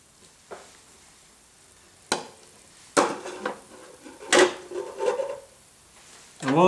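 Passion fruit cooking on a skewer gives off scattered sharp pops and spitting bursts, a few seconds apart, over a quiet, faint sizzle, with a louder cluster of crackles toward the end.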